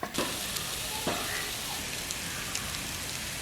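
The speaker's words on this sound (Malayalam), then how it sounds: "ആ ഒരു കാടമുട്ട ഫ്രൈ ആണ് നമ്മൾ ഉണ്ടാക്കിക്കൊണ്ടിരിക്കുന്നത്" Quail eggs frying in masala in a pan, a steady close crackling sizzle throughout, with a few sharper spits and pops and no talking.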